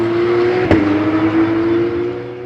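A Porsche 991 Cup race car passes on a circuit during a racing event, its loud, steady engine note holding throughout with a brief sharp burst near the start, and no one speaks over it.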